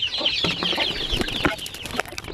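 Shamo chickens cluck and chatter excitedly at feeding time, a close, busy flock with overlapping calls and a few louder squawks.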